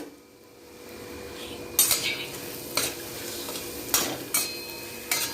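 Ground raw peanut paste roasting in a hot kadhai, giving a low steady sizzle broken by several sharp scraping stirs of a spoon against the pan, close and alone with no talk.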